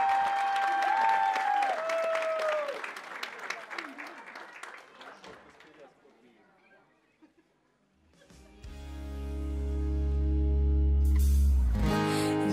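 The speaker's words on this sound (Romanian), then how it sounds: "Să-i primim cu aplauze!" Audience at a children's Christmas dance show applauding, with a singing voice and cheering first, then the clapping fades to near quiet before loud music starts.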